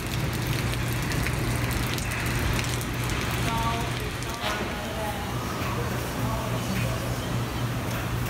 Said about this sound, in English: And the rain is pouring down.